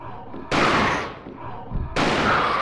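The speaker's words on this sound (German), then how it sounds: "2 Schuss aus der Shotgun und das Viech ist platt." Two loud shotgun blasts in Alone in the Dark 4 on PlayStation go off about a second and a half apart, each with a booming, slowly fading tail.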